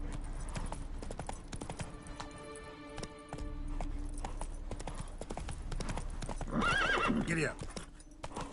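Roach the horse galloping in The Witcher 3, with steady rhythmic hoofbeats clip-clopping under game music, then a loud neigh near the end.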